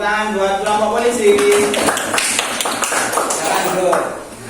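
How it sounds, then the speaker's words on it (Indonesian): Students in a classroom clap for a student group, brief applause with sharp hand claps that starts after a spoken voice and gradually fades out. "Beri tepuk tangan buat kelompok polisi."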